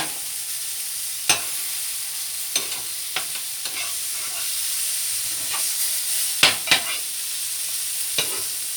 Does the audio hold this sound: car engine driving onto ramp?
no